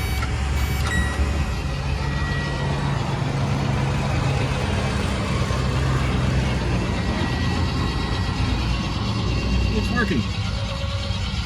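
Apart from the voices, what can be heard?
1969 MG GT engine cranking over on the starter motor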